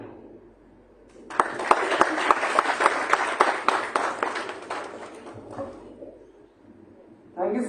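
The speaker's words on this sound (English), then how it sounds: "Let's have a huge round of applause for Dr. Ishan Taneja" Conference audience at IMS Ghaziabad applauding, a sustained burst of clapping of moderate loudness that rises abruptly, holds for about four seconds, then thins out and tapers away.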